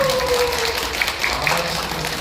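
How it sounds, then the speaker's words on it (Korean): Crowd at a national March 1st commemoration rally applauds the host, a broad wash of clapping beneath a voice talking over it, brief and steady throughout. "사회자를 위해서도 박수!"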